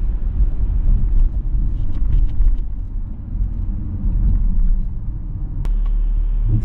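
BMW E39 525i driving after a manual gear change, giving a steady low engine and road rumble from inside the cabin with no speech.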